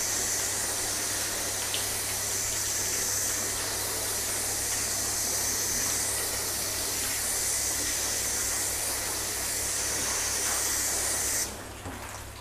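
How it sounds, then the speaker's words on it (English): A garden hose sprays water steadily inside a garage, a loud continuous hiss with the stream shifting partway through, then cutting off abruptly near the end. "Just change my hose pattern here because I'm really"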